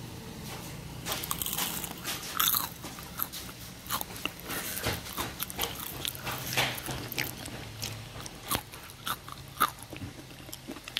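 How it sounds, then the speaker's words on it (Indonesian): Someone bites and chews crispy homemade potato french fries up close, with repeated crunchy snaps and crackles in an irregular rhythm over a low background hum. "Kita tes rasa ya, tes kerenyahan."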